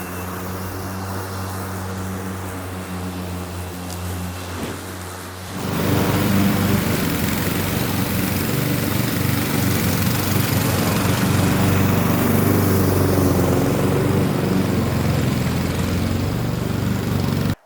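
Lawn mower engine noise, with a quieter electric mower giving way to a much louder, steady gas mower roar that drones evenly and close for the rest of the stretch.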